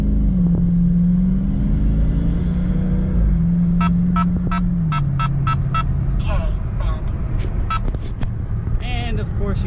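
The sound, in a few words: Jeep SRT8 engine while driving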